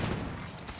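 Gunfire in Apex Legends, a dense, brief burst of rapid shots with a booming low end, loud and continuous.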